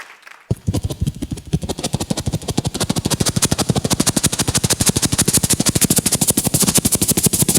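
A performer vocally imitates a helicopter on a comedy stage show, producing a loud, rapid, steady chopping pulse that starts abruptly and continues without pause for several seconds.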